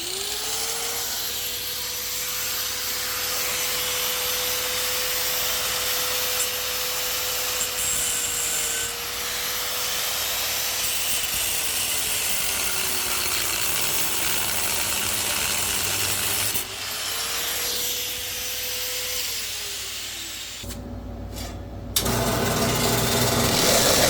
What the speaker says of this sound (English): I'm gonna whack that off with the old flap disc here